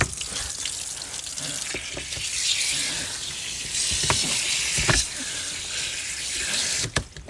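Water rushing from two hoses joined together at full pressure, a steady hissing flow with a few sharp knocks and clanks, close by and without speech.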